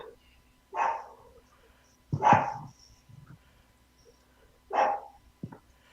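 A dog named Sam barks indoors in short, separate bursts, three main woofs spaced a second or two apart with a softer yip near the end, fairly close and with no talk over them.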